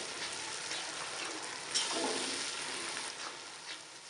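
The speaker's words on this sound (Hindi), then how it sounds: "हम इसमें टमाटर का पेस्ट शामिल करेंगे। इसे तकरीबन 2 से 3 मिनट भूनेंगे।" Tomato paste frying in a pan for aloo matar gives a steady, soft, hissing sizzle with faint crackles throughout, fairly close and quiet, with no voices.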